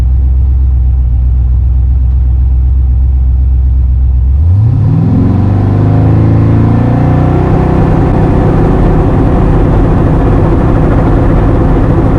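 Turbocharged car engine during a boost control test, loud and close: a steady low idle-like drone, then revs climbing sharply around four seconds and holding high with a dense, roaring tone, no voices.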